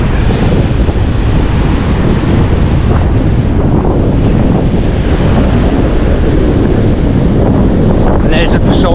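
Rough sea surf and strong wind at Laganas Beach, a loud, continuous roar of breaking waves buffeted by heavy wind noise on the microphone throughout.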